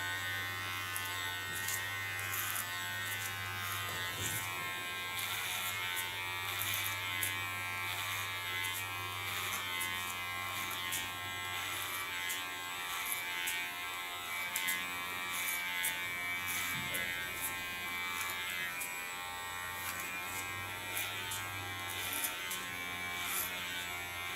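Electric clippers shave the nape during a short pixie haircut, a continuous close mechanical buzz with a steady hum that shifts slightly as the blade moves over the neck, with no voice.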